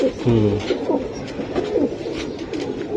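Silver Giribaz pigeons coo repeatedly in soft, throaty bursts close by, with a little background murmur, at a pigeon market.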